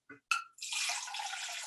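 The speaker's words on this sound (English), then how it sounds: "So I'm going to take my pitcher and pour water" Water pours from a pitcher into a cylinder-shaped container. A brief voice comes first, then the steady, close splash and trickle of the pour runs on without a break.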